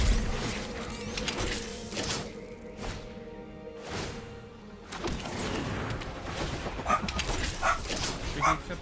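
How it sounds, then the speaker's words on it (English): A dog barks intermittently at moderate distance indoors, in a bus converted for off-grid living, with sharp yips and some whimpering over low background noise. "Stop barking."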